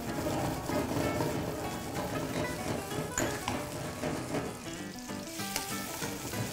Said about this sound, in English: At this heat, I'm going to add the chorizo.